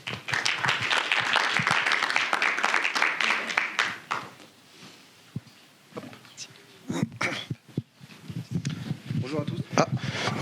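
Audience at a film festival in Les Arcs applauds presenters coming onstage, dense clapping for about four seconds that fades into quieter room noise and scattered voices and movement.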